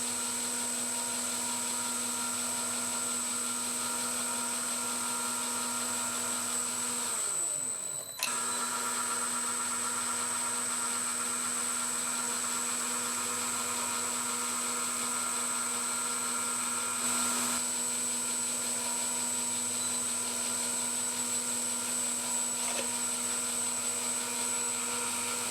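A metal lathe takes a final facing cut across a brass sundial calendar blank, bringing it to thickness: a steady machine whine and hum with a continuous cutting tone, loud and close, briefly interrupted once, with no talk.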